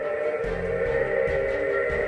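Electric school bus in Poway giving off a steady, otherworldly flying-saucer-like hum with sustained mid-range tones and a low rumble, continuous and fairly close.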